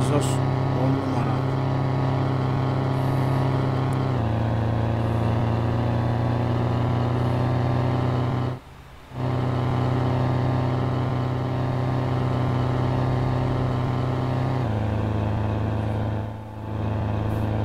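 In a truck driving video game, a Ford 2428 truck with an aftermarket exhaust gives a steady droning engine and exhaust rumble with smooth, heavy harmonics, shifting pitch a few times as gears change.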